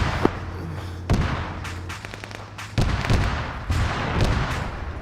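Gunfire in a military video game: repeated sharp shots and bursts, some close and punchy, others more distant, crackle irregularly over a low background rumble.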